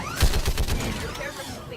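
Gunfire in Mass Effect 3 as squadmate Ashley shoots at something, a quick burst of sharp shots at the start fading into ringing echoes, with a voice speaking over it.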